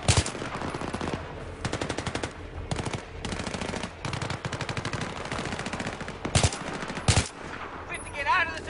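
Rapid automatic gunfire in the Battlefield 3 video game comes in repeated loud, close bursts of fast rattling shots with a few heavier single blasts, with a voice talking at times.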